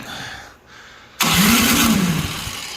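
A small engine with a gummed-up carburetor catches on ether spray after a quiet pause, bursting into a loud, steady running roar that lasts to the end.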